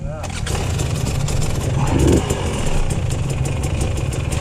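Yamaha dirt bike with a sticky throttle, its engine running steadily and loudly close by, with a brief rise in revs midway, while someone talks over it.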